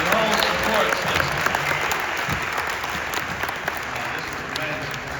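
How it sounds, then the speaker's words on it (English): Sustained applause from a large crowd at a children's junior white coat graduation at Charles Drew University, dense clapping filling the space steadily throughout with a faint murmur of voices underneath. "give yourselves a round of applause for your whole support system"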